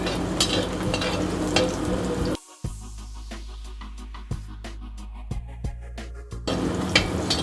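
Food frying in a pan in a hotel kitchen, with a steady crackling sizzle. The sizzle drops out briefly partway through, leaving scattered sharp clicks and clatter, then returns at full loudness.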